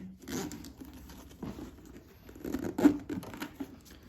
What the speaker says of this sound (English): now that's supposed to zip up here